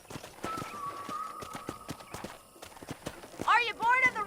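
Horse hooves clip-clop in a steady rhythm in the video game Red Dead Redemption, with a sustained tone early on and a short vocal burst near the end.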